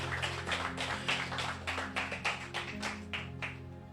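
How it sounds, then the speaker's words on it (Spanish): A church congregation claps in a steady rhythm, the beats evenly spaced and fairly close over a low sustained hum of music. "Fuerte ese aplauso para Jesús"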